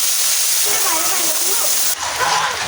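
Dal poured into a pan of hot oil with browned onion, garlic, cloves and peppercorns gives a loud, steady watery hiss and slosh that flares into a brighter sizzle about two-thirds of the way through.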